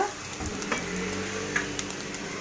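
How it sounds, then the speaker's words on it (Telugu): Finely chopped onions fry in oil for a moong dal khichdi, a constant crackling sizzle with a few sharp pops and light stirring, no voices. "సన్నగా తరిగి పెట్టుకున్న ఆనియన్స్ వేసేస్తాం ఈ ఆనియన్స్ గోల్డెన్ బ్రౌన్ వచ్చేంత వరకు వేయించుకుందాం"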